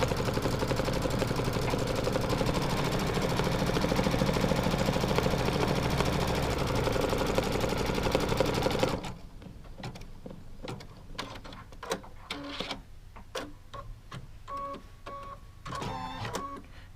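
Machine stitching through quilt block fabric: a dense, loud continuous mechanical run for about half the time, then stopping and giving way to scattered clicks, taps and short whirring bursts.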